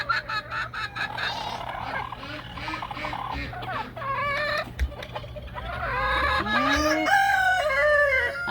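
A flock of chickens clucks and squawks close by in a backyard coop, with repeated rhythmic clucking calls and a rising squawk near the end, fairly loud and unbroken over a low background hum.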